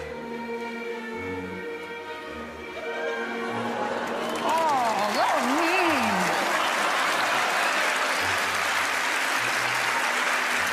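Studio audience applause at a magic competition show, a broad dense wash of clapping swelling up and holding steady and loud, with some music and voices beneath it.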